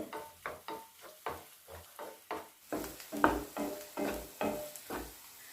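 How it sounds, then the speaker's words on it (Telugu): Whole cinnamon, cloves, cardamom and bay leaf stirred in a hot pan for a paneer masala gravy curry, giving a steady run of about a dozen rhythmic scraping strokes over a soft sizzle, close and moderately loud. "ఇందులోనే చెక్క లవంగాలు యాలక్కాయలు బిర్యానీ ఆకు వేసుకొని కలుపుకోవాలి"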